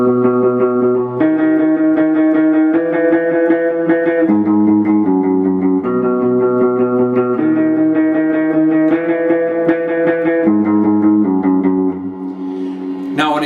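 A second electric guitar with a clean tone plays a low, bass-line-style riff of steady, evenly spaced single notes and short repeated figures. It is loud and close, with no talking.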